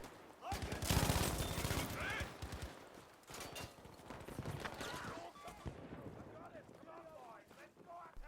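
An MG42 machine gun in a Battlefield video game fires dense, rapid bursts that are loud and close, with a voice talking over the gunfire throughout.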